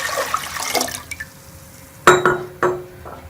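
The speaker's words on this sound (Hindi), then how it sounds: "इसके अंदर हम ये 1 लीटर पानी डाल देंगे" One litre of water poured into a pot set on the stove for a raw mango drink, a brief splashing pour followed by a few sharp clinks and watery knocks, close and moderately loud.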